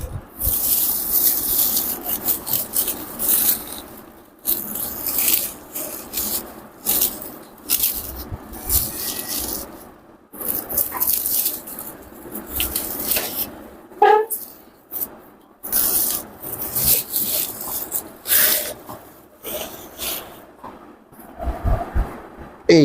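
Opening a sack package that holds a tray of mangoes: bursts of rustling, rubbing and scraping of the sack material come in uneven stretches with short pauses, close and fairly loud.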